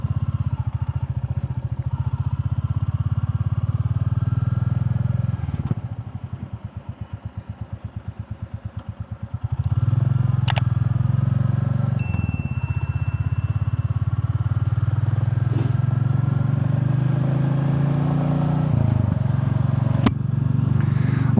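A Royal Enfield Classic 350 motorcycle rides on after a tire puncture scare, its steady single-cylinder thump loud and continuous, easing briefly as the engine note drops before pulling strongly again, with a few sharp clicks over the drone.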